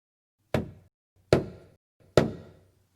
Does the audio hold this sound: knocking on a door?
yes